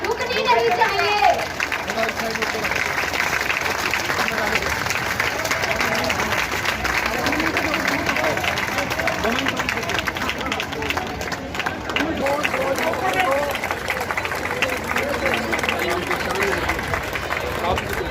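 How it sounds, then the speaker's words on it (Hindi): A village crowd claps continuously to welcome home a woman who passed the UPSC exam, a steady dense applause lasting throughout, with voices and chatter mixed in. "तालियों की गड़गड़ाहट रुकनी नहीं चाहिए।"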